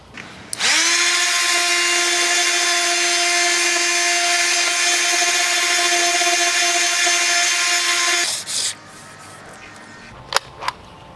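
A power sander whirs loudly and steadily for about eight seconds on rotted exterior wood trim, then cuts off, followed by a few light clicks and handling noises.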